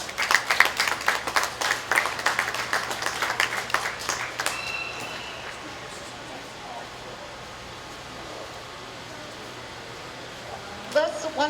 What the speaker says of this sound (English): Let's once again give a round of applause for our judge today, Mr. Lowell Mueller